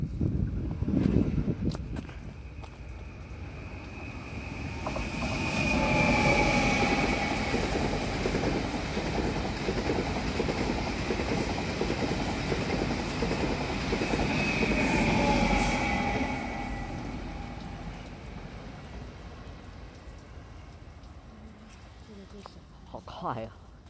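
A Tze-Chiang express train rushes past at high speed, a broad roar with rapid rail clatter that swells, holds for about ten seconds, then fades, with voices heard nearby.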